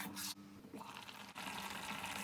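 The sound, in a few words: half glass of water added to mushroom tomato curry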